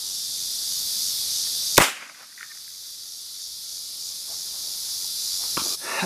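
A single sharp gunshot from a CCI .22 Magnum fired through a 4-inch barrel, one loud crack over a steady background hiss, followed near the end by a fainter second impact.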